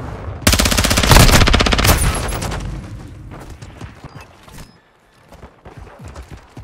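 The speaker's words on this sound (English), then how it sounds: "I'm taking fire." Automatic gunfire rattles in a Call of Duty Modern Warfare 2 (2022) match on the Shoot House map, a loud, close, rapid burst lasting about two seconds, followed by sparser distant shots and clicks.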